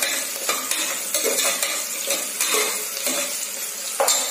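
Onions frying in a pan with rock salt for tomato biryani, a steady sizzle broken by repeated clinks and scrapes of a metal spoon against the pan, close and continuous with no talking.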